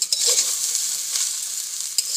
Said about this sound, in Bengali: এবার অল্প করে নেড়ে